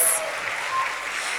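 A livestreamed audience gives a short burst of clapping for the celebration entertainment act, Magic for Teens, a steady dense patter at moderate level throughout.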